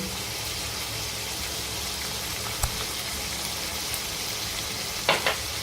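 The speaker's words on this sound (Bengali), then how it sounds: "ততক্ষণ না তেল ছাড়ছে ততক্ষণ এই মশলাটা আমি কষিয়ে নেব" Masala stir-fried in oil for prawn malai curry, a dense steady sizzle with a single knock midway and a couple of quick utensil taps near the end, close and even.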